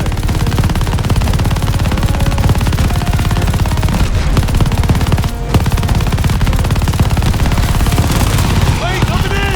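Light machine gun fire in Call of Duty: Vanguard, a loud continuous rattle of rapid shots that runs almost without break, with a short pause midway and shouted voices over the din.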